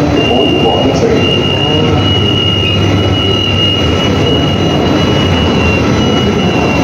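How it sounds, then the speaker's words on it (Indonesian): KLIA Transit airport train at Putrajaya station, a steady loud rumble of the rail cars with a thin high-pitched wheel squeal held throughout, continuous and close. "ini penampakan KLIA Transitnya atau alias kereta bandara"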